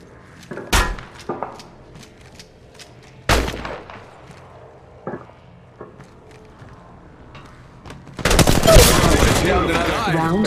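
Gunfire in the mobile shooter Apex Legends Mobile, scattered sharp shots spaced a second or two apart, then a dense burst of rapid fire near the end, loud and close.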